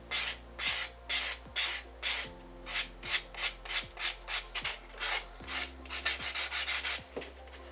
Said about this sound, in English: I'm gonna remove the shine of the top coat with a block